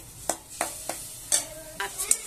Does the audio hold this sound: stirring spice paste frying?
yes